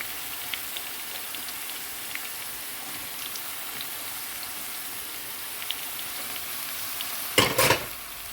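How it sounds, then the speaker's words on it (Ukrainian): Pepper goes into a frying pan beside softened onion and sizzles in a steady, close hiss with scattered pops, ending in a brief louder scrape or stir near the end. "Тепер я цибульку трохи в сторону і сюди додаю перець"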